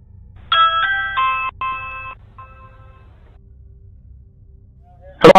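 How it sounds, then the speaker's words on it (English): A bright electronic video doorbell chime plays a short multi-note melody that rings out and fades, followed by a brief sharp noise at the end. "The police even came to the homeowner's doorbell and contacted him through it"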